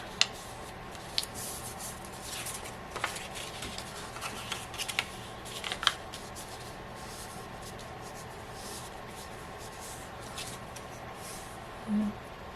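Paper sides of a small coin envelope folded in by hand, giving quiet, close creases, rustles and soft scrapes in sparse bursts against a faint background hiss.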